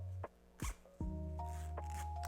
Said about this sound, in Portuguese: Para isso, a gente abre o zíper